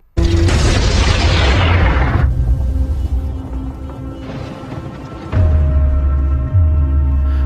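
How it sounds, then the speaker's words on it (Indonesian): A loud, booming explosion from a Predator film, a frozen creature bursting, with a long rumbling tail, fading before a second heavy blast hits near the end. "perlahan membeku sebelum akhirnya meledak"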